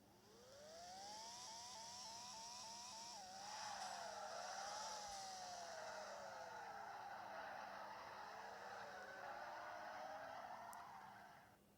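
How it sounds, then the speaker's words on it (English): A Lamborghini in the video game Car Crushers 2 revs through rising and falling engine whines, repeated pitch climbs like gear shifts, heard alone and fairly quiet with a steady background hum. "the revving sound of this Lamborghini sounds really legit."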